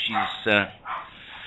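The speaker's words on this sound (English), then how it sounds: "there goes my little doggy" A small dog barks a couple of times indoors, sharp yaps mixed in with a person speaking over a slightly hissy background.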